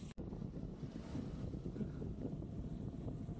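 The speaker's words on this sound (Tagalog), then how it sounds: "So andito na tayo sa may mahangin na part." Steady wind rushes and buffets against the microphone, a low continuous roar with no voices.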